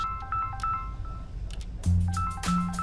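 An electronic phone ringtone repeats in short bursts of melodic tones, fairly close and loud, with a low hum and some clatter underneath.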